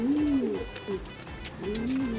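Young racing pigeons coo close by in low, rolling phrases, one at the start and another near the end, with light shuffling between them.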